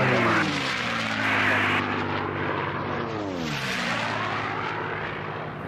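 Racing airplanes with piston engines roar past at the national championship air races in Reno, a loud continuous drone that shifts in pitch as the aircraft pass, with no talking over it.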